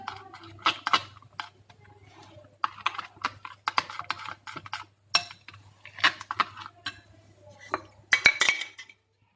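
Chicken tikka masala mixed in a bowl with a utensil, close-up, producing irregular clinks and scraping taps against the bowl in clustered bursts with short pauses.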